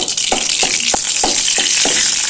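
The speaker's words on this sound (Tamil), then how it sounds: "பட்டை கிராம்பு பிரிஞ்சு எல்லாம் போட்டாச்சு நல்லா வறுபடட்டும்" Whole spices—cinnamon, cloves and bay leaf—fry in hot oil on full flame for a mutton radish curry, a loud steady sizzle with about six sharp stirring clacks spaced evenly throughout.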